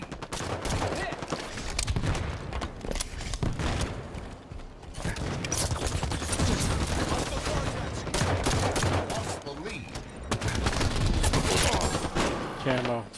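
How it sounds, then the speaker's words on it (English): Sustained hostile gunfire in Halo 5 multiplayer, dense bursts of automatic and single shots with mechanical clatter running almost continuously and loudly, under occasional voice chatter. "Hostile fire at Red Ridge."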